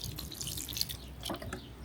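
Vinegar pours into a bowl of water where freshly harvested vegetables are soaking, giving soft splashing and dripping close by, with no voices.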